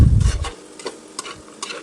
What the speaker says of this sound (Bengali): এইরকমভাবেই কিন্তু আলুটা ভেজে নিতে হবে।